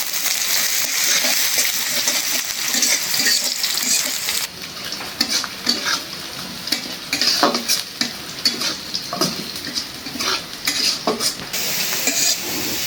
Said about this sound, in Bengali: পেঁয়াজ রসুন ভালো করে ভাজা নিলাম।